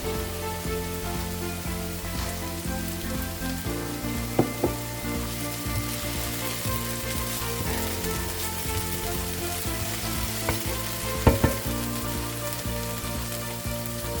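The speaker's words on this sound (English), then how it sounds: "I'm going to add also some fresh cherry tomatoes from my garden" About twenty fresh garden cherry tomatoes fry in a hot pan, a dense, loud and steady sizzle with occasional pops and stirring clatter, no voices.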